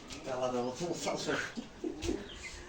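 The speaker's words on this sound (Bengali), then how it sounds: "এই দুই জোড়া কবুতর নিয়েছি নিচেরটা হচ্ছে যে মোসালদম আর ওপরটা হচ্ছে যে শাহজাহানপুরি" Mosaldom and Shahjahanpuri pigeons, two pairs of domestic pigeons, coo in short repeated phrases close by, with someone talking over them part of the time.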